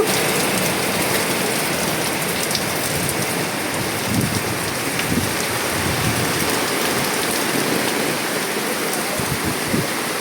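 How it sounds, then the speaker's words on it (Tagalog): Heavy rain pours down steadily, a dense close hiss of drops striking surfaces with occasional louder splats, continuous throughout and without talk. "Lumurok ng ulan. Agupoy na lang."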